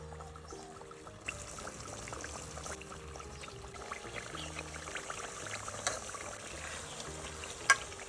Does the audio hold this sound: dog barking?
no